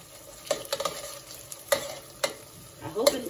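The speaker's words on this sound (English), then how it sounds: "you want to stir these bad boys around while they're cooking in the pan with the tomato paste" Onions and tomato paste fry quietly in a pan for jollof rice, with a few distinct spoon scrapes and stirs spaced over a faint, low sizzle; close and without voices.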